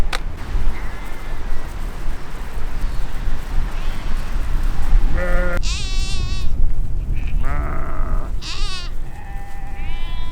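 Several sheep bleat in quick succession outdoors on a Himalayan mountain trek, loud and close, over steady wind and low rumble, with other bleats calling back from nearby.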